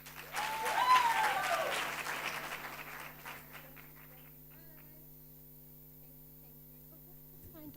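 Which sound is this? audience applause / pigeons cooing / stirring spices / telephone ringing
audience applause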